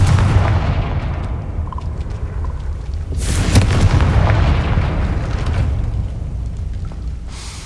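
Confringo fire spell blasting a gate in Hogwarts Legacy, a loud sustained booming roar with a sharp burst of crackling energy in the middle, rumbling continuously throughout.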